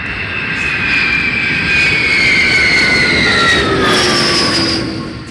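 A jet plane flies low over a motel, a loud roaring pass with a falling engine whine that swells and then fades.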